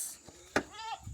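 Goats bleating in an open outdoor setting after being released, with one clear wavering bleat near the end, a sharp bang just before it, and faint low rumbling noise throughout.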